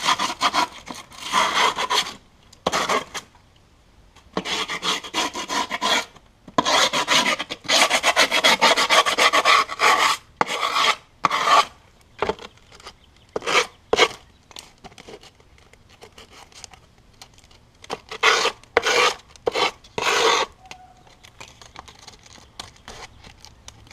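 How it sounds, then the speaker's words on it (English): A hand file rasps along skateboard grip tape over the wooden deck edge, thinning the grip: loud, close, repeated scraping strokes in uneven bursts with short pauses between runs. "you're going to want to file it down"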